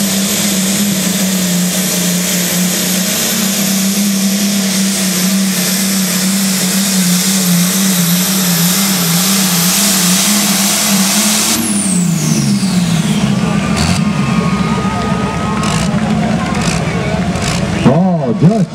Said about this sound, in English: Good competitive tractor pulling here tonight